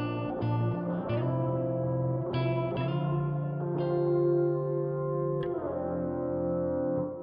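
A fuzzy, synth-like hexaphonic fuzz guitar plays a chordal line within a full mix of other instruments, the notes changing in a steady, moderately loud pattern.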